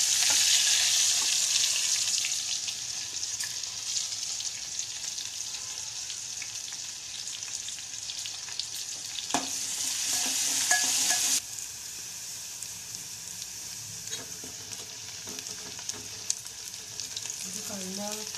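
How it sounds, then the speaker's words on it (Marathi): Onion browning in hot oil sizzles steadily, a constant bright crackle with occasional scrapes and clinks of stirring. "कांदा ब्राऊन होत आलेला आहे."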